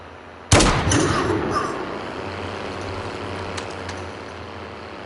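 A single heavy sniper rifle shot in the battle royale game Call of Duty Warzone cracks out loudly, then its echo rings and fades into a low rumble of vehicle noise.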